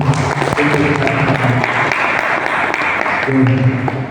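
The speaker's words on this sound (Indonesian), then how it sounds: "Tepuk tangan dulu." A crowd at an Indonesian IPNU IPPNU youth organisation gathering claps loudly and continuously in a short burst of applause, with a voice or tonal sound running underneath.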